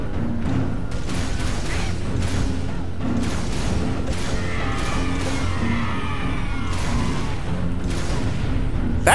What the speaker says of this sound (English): That's fuel rod cannon.